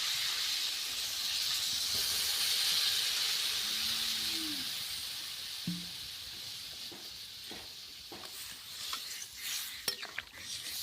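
Water poured onto frying vegetables in a village kitchen sets off a soft, continuous steamy hiss that slowly fades, with a few faint knocks and clatters toward the end.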